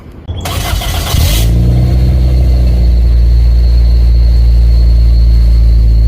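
A 1992 Toyota Celica engine cranks briefly with a whirring starter, catches and settles into a loud, steady idle that drones on close by.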